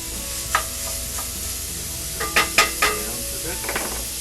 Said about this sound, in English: It says to use a non-stick pan, but I'm using a cast iron skillet, which is perfectly good as long as it's seasoned.